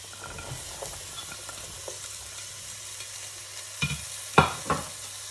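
Leek, celery and potato go into softened onion frying in a pan for broccoli and Stilton soup; a faint, steady sizzle runs throughout, with a few clattering stirs near the end.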